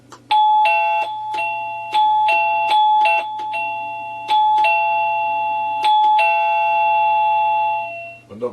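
An OxyLED D01 wireless doorbell plays a bright electronic chime melody, a series of clear two-tone ding-dong notes repeating close up, loud and alone.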